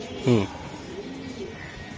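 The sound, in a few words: racing pigeons cooing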